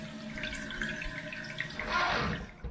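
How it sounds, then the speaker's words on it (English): A toilet tank refills after a flush, water hissing and trickling steadily through the fill valve, rising to a brighter gush near the end before briefly dropping off. "And it starts to fill back up"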